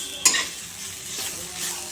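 Pomfret fish sizzles as it fries in a pan, with a sharp scrape of stirring near the start and another near the end over steady crackling, close and alone.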